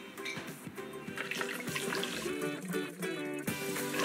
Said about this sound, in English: Chris, do you want a drink of water?